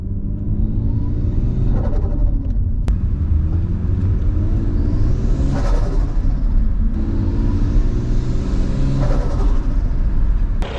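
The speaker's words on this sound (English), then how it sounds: "You can definitely hear the suction noise more." A turbocharged Toyota 1JZ engine with a K&N intake revs up and down, a loud steady rumble with rising pulls and audible intake suction and flutter whooshes around each throttle lift, with no talk.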